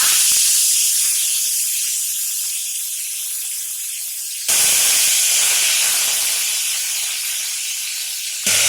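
Brinjal and potato drop into hot oil with a loud burst of sizzling that slowly fades, then a second equally loud burst as more goes in, hissing strongly and steadily close by.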